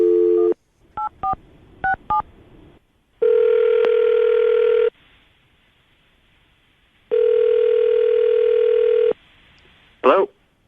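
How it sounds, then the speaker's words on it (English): A telephone call is dialed: a short burst of keypad tones, then two long ringback tones separated by a pause, loud and close, ending with a brief voice. "I'm about to dial the phone number you gave us"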